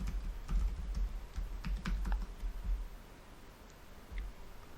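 Keys tapped on a computer keyboard while a password is entered for a new Daraz store account, a quick uneven run of light clicks close by with faint room hum underneath and no talking.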